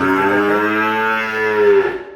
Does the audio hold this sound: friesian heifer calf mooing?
yes